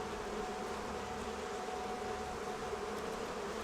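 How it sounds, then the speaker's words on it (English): Bees buzzing in the video game Crimson Desert, a steady, even drone that holds at constant loudness throughout with no speech over it. "I can hear bees."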